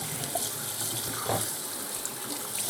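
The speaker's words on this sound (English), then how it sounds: "Let's give them one more rinse." Freshly caught reservoir fish being rinsed under a running tap, a steady close hiss of flowing water splashing into a sink throughout, with no talking.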